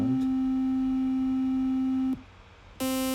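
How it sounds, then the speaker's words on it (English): A steady triangle-wave tone from a VCV Rack 2 software synthesizer holds for about two seconds, hollow and mellow, then cuts briefly before a brighter buzzier tone begins. "Triangle, still quite a hollow kind of sound."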